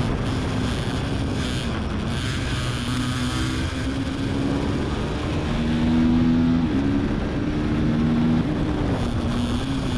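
A TVS Apache RTR 310 motorcycle is ridden on a race circuit in Thailand. Its engine drones steadily while the pitch rises and falls through gear changes, with wind rushing over the microphone throughout.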